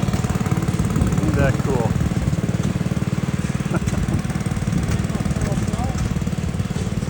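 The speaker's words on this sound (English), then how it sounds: "Check that machine out. David Bradley Tri-Track." A David Bradley Tri-Track machine's small engine runs steadily and loudly nearby at a vintage machinery show, a constant rapid chugging throughout, with someone talking over it.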